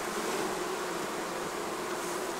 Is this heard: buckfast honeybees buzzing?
yes